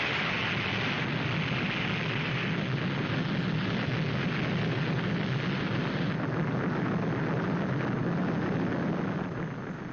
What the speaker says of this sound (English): As the missile hurtles through space